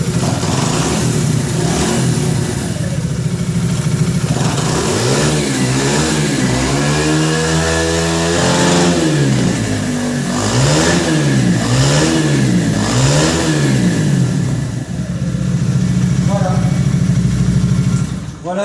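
A Ride Zento 125 motorcycle engine accelerates on a test ride, loud and close, rising and falling through repeated rev sweeps under steady wind and road noise.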